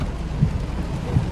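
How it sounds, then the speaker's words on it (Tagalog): Steady rain with low rumbling thunder in a tropical storm, a continuous close wash of sound with no voices. "May bagyo daw ay."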